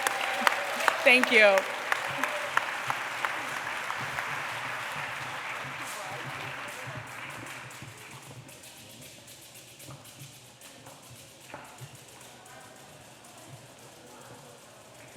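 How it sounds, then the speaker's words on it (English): An audience at a community block party gives panelists a round of applause, loud and dense at first, then thinning and tapering off over about eight seconds, with a brief spoken thanks heard over it. "can we get one more round of applause for our panelists, please?"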